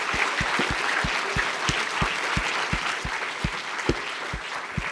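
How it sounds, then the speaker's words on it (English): A conference audience gives a round of applause for a panel, with dense clapping throughout and a few louder rhythmic claps standing out nearby. "I think another massive round of applause for our panel."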